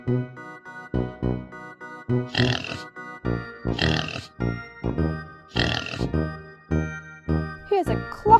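A cartoon farm pig oinks and grunts in short repeated bursts, set against a bouncy tinkling children's music backing.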